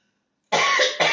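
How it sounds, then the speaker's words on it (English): A person coughs in a short, loud burst after a moment of silence, then coughs once more, close and alone with no talk over it. "I'm coughing now"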